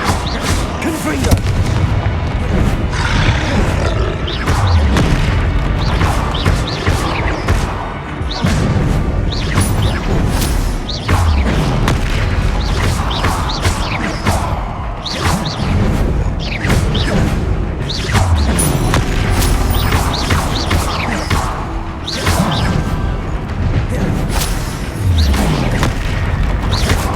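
Confringo blast spells and explosions in the video game Hogwarts Legacy, loud booming bursts and crashing impacts repeating rapidly throughout, layered with whooshes and combat effects at constant high volume.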